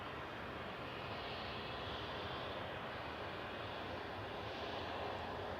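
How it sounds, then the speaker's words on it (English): Turkish Airlines Airbus A321neo touching down on runway 23R at Manchester Airport, a distant, faint but continuous engine roar and rush of air spread evenly across the clip, no one talking. "Just touching down on 23 right is TCLPH with flight 1991 from Istanbul. It's an A321 Neo."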